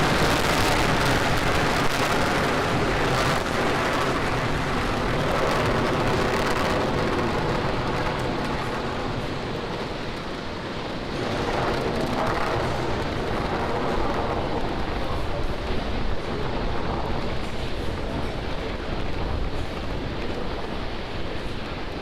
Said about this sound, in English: Falcon 9 has cleared the towers, and the final Dragon 1 flight is underway